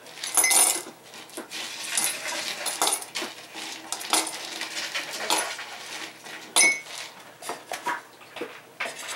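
Ice cubes clinking and clattering into a coffee cup, a run of sharp close-up clinks and taps, busiest at the start with another burst partway through.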